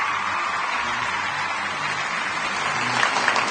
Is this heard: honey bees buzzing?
no